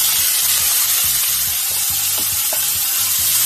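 Minced meat sizzles steadily in a hot pan for a Nigerian meat pie filling, with a constant frying hiss and soft repeated scrapes of stirring, close and fairly loud with no talking.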